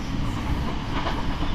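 A Class 458 electric train runs between Clapham Junction and London Waterloo, heard from onboard as a steady close rumble with rhythmic rail clatter over its short run.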